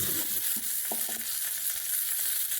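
Mustard seeds and curry leaves crackling in hot coconut oil as a tempering for a Kerala-style mango mor kuzhambu, a close, steady sizzle with scattered pops and a few stirring clinks.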